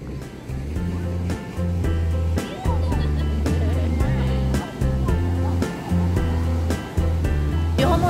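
Ocean surf at Laguna Beach, California, rolls in with repeated washes of noise, close and fairly loud, while people talk over it throughout.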